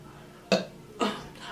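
A person with a stomach full of liquid and feeling sick lets out two short, throaty burp-like bursts about half a second apart, close and fairly loud against a quiet background.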